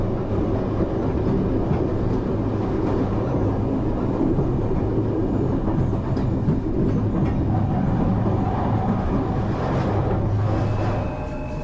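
A passenger train runs on rails between Ljubljana and Zagreb, heard from inside as a loud, continuous rumble with faint clickety-clack over the whole stretch.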